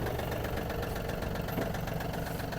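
A Yanmar AF-26 Japanese mini tractor engine running with the power take-off engaged and the rotary tiller lowered, a dense, steady diesel chug with a fast knocking pulse, close and constant.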